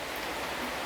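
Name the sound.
heavy rain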